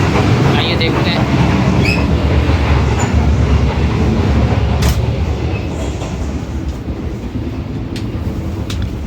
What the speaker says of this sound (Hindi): शालीमार एक्सप्रेस की पार्लर कार में।